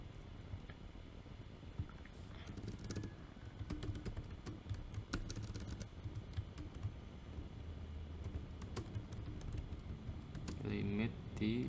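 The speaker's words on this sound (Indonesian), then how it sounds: "saya akan ketik" Fingers type on a computer keyboard in a steady run of quick, close clicks and clacks, with a few louder key strikes, under a low background hum.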